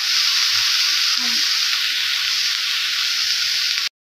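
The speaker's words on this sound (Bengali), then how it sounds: "ঢাকনা উঠিয়ে হালকা একটু আবার নেড়ে ছেড়ে দিচ্ছি।" Bitter gourd fry sizzling steadily in a pan with a lid lifted, a loud even hiss of frying running throughout with faint stirring, then cutting off abruptly near the end.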